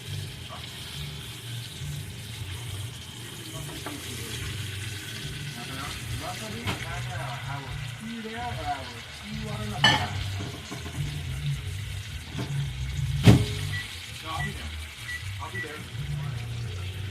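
Schnitzel frying in grease, a steady sizzle under someone talking, with a few louder clinks and scrapes from utensils at the pan near the end.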